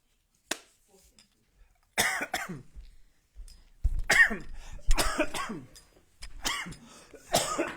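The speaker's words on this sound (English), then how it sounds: "that was my first cough" Several harsh, close coughs come in short clusters with brief pauses between them, one person coughing repeatedly.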